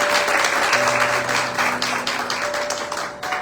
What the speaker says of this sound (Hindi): इस खूबसूरत वर्शिप के लिए एक बार फिर हम जोरदार तालियां बजाएंगे